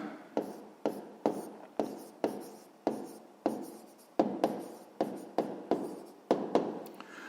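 Handwriting a math check with a pen on paper: regular short scratchy strokes about twice per second, close and soft, with no talk.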